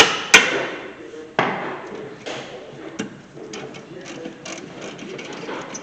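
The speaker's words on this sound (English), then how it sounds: "Use a hammer, not your hand." A hammer strikes a brake caliper bracket on a 2013 Hyundai Santa Fe, giving a few sharp metallic knocks spaced apart, with lighter clinks and rattles in between.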